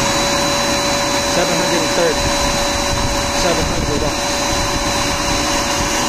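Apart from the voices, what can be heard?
vacuum cleaner running on a battery power station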